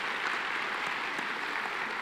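Audience applause at a summer programs closing ceremony, an even, moderately faint wash of many hands clapping in a hall, steady without breaks.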